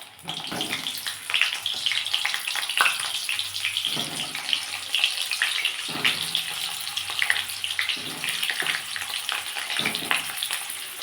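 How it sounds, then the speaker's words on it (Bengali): Steamed cauliflower frying in oil, a close, continuous crackling sizzle broken by periodic stirring and scraping, with no voices. "আমি এবার এই তেলে ভাপিয়ে রাখা ফুলকপিগুলো একটু লাল লাল করে ভেজে নেবো"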